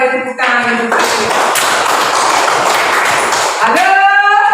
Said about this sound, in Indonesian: Mari kita beri tepuk tangan untuk Tuhan.